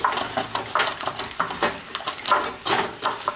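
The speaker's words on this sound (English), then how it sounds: "scrape the bottom of the pan." Scraping and clinking at the bottom of a pan with beer in it while slow-cooked carnitas are being made, a run of irregular scratchy strokes and light metallic taps, fairly close and with no talking.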